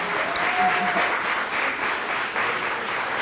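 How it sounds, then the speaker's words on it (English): A room full of people clapping for panelists at a presentation in sustained, even applause, dense and moderately loud. "Give the panelists a round of applause here."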